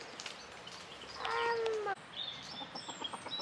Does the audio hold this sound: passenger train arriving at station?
no